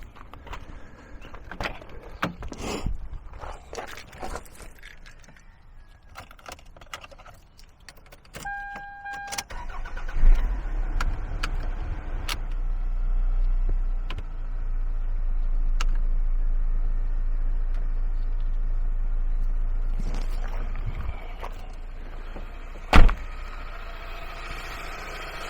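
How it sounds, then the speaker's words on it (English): A vehicle engine cranks and catches, then settles into a low steady idle, used to jump-start a lawn tractor that turns over but won't start; keys clink and a sharp knock sounds near the end. "I'm going to start the vehicle"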